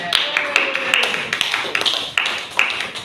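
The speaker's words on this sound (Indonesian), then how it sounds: "Tepuk tangan untuk Amel" Students in a classroom for Indonesian as a foreign language applaud a classmate, producing a run of uneven, fairly close claps and taps in loose rhythm.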